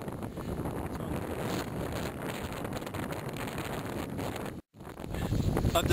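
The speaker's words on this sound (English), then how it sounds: "just a bit scary because of the wind" Strong wind buffeting a paraglider pilot in flight, a loud, continuous roaring rush over the microphone with a brief dropout before it swells again.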